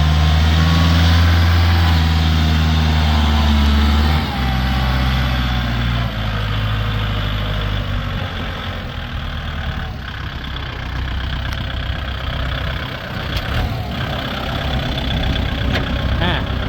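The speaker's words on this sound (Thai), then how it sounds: "เครื่องยนต์เป็นสี่สูบไดเล็กครับระบายความร้อนด้วยน้ำนะครับ" A used Kubota L3608SP tractor's four-cylinder water-cooled engine idles close by, a loud, steady low rumble that eases slightly after a few seconds and keeps chugging evenly.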